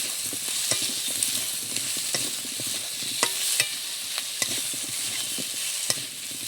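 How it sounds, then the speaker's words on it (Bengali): Spices and chili powder sautéing in a pan, a steady close sizzle broken by irregular scraping strokes of a spatula stirring, no voices. "লঙ্কার গুঁড়োটা দিয়ে আমি আবারও বেশ সুন্দর করে কষে নেব"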